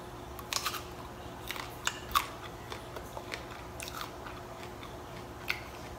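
Close bites into crisp fruit such as rambutan, small apples or green mango, a series of sharp, faint crunches and chewing clicks spread irregularly across a quiet room.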